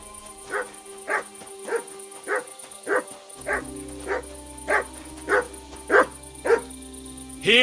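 Mutt, the dog in the video game Kingdom Come Deliverance 2, barks about a dozen times at a steady, even pace, each bark close and clear.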